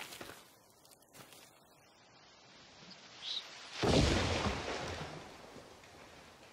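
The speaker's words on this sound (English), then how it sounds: "it sounded like a bomb just then" A bomb-like explosion in the survival video game The Forest: a single low, rumbling boom bursts in partway through, then slowly fades against a faint background.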